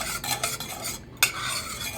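A utensil stirs water and pepper powder in a pan with quick, repeated scraping strokes, a brief pause and then a sharp clink before the stirring resumes, close and alone.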